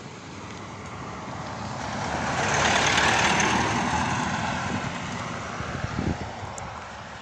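A car drives past along a road in Newlands valley, its engine and tyre noise rising to a peak midway and then fading, heard alone without talk.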